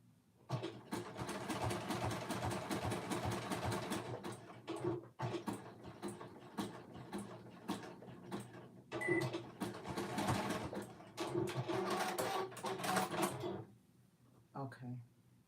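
A sewing machine runs in bursts while a seam is stitched down at a 3/8 allowance, its rapid mechanical whirr starting and stopping with brief pauses and clicks, close and fairly quiet, with no one talking.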